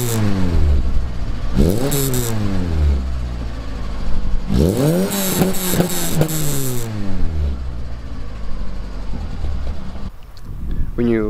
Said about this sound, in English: The car is pretty warm from before, so let's give it a rev.